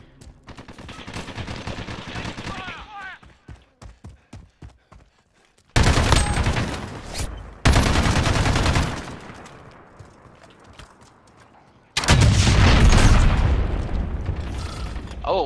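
Gunfire in the Modern Warfare video game: a run of rapid single-fire shots, then several loud, dense bursts of shooting and explosions separated by quieter mechanical clatter, close and forceful.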